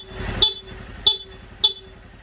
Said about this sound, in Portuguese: Vamos testar a buzina